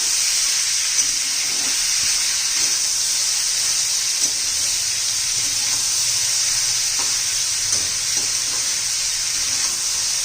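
Bitter gourd curry sizzles loudly and continuously in a pan with a hissing, steamy wash, while soft scrapes of a spoon mixing it come through now and then, close and without talk.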